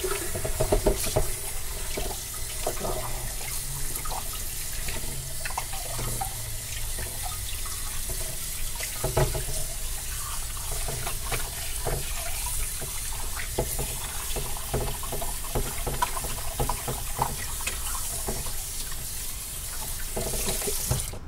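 A kitchen tap runs steadily while a whole flounder is washed under it, a loud continuous rush and splatter of water with irregular splashes and knocks from handling the fish, lasting throughout.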